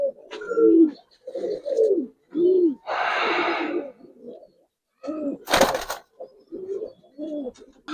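Giribaz pigeons coo close by in repeated soft, throaty bursts, with a brief flutter of wings and a sharp rustle between the calls.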